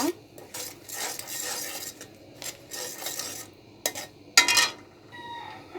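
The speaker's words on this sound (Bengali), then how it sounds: "এবার এগুলো আমি নেড়ে নিব।" A spoon stirs pumpkin with salt, ginger paste and bay leaves in a metal pot, giving close, uneven scraping and clinking strokes with one sharper clatter near the end.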